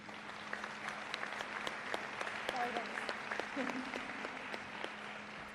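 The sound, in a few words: applause for the parents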